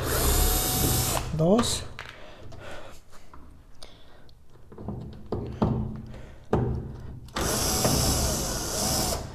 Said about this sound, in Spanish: Yo con un destornillador eléctrico vamos a quitar lo que son los tornillos.